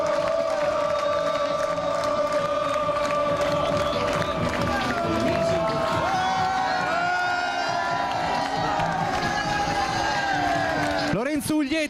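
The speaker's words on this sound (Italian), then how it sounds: "Sentite il coro." Treviso Basket fans cheer and chant in a loud, continuous roar as the team bus arrives after promotion to Serie A, with whistles and shouts rising throughout and a commentator talking over the crowd.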